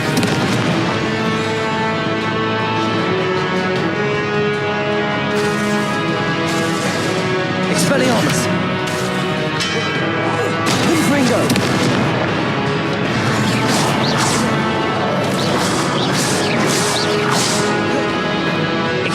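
Confringo blasting-spell explosions in Hogwarts Legacy on PS4, a loud, relentless run of booming blasts and crackling impacts over layered game music, with bursts of sharp bright crashes recurring every second or two.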